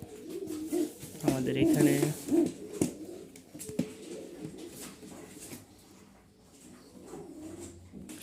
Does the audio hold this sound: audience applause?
no